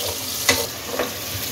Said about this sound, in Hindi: 1 मीडियम प्याज जिसकी मैंने स्लाइस में कटिंग कर ली है वो डाल दें और प्याज को फ्राई कर लें।